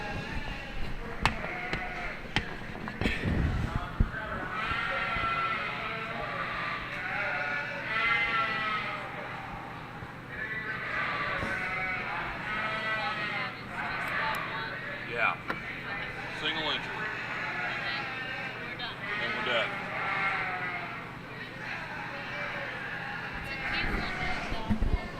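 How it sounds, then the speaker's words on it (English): Spring Valley Black-Nosed ewes bleating in the show ring at a youth sheep expo, with repeated calls close and far over the hubbub of the crowd, while an announcer talks over the PA for much of the time. "Class 243, last class of the day in Ring 2, your Spring Valley Black-Nosed ewes."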